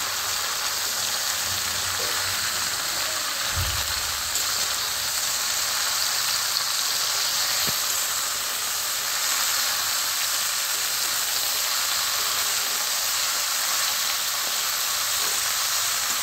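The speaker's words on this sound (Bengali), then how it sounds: "ঝিঙাটা দিয়ে একটু কষবো" Steady broadband hiss of ridge gourd and potatoes sautéing in a pan, a continuous even sizzle throughout with a couple of faint low knocks, no voices.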